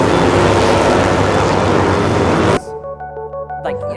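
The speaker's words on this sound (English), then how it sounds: "They're very loud, the motorbikes coming here now." Loud motorbikes pass close by, a dense roaring engine rush that fills the first two and a half seconds before dropping away abruptly, leaving quieter tonal background sound.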